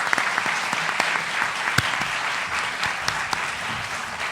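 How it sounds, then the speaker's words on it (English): A crowd applauds mayoral candidates at a Philadelphia mayoral forum, a dense, even burst of clapping that holds steady throughout. "And one big round of applause for all the candidates"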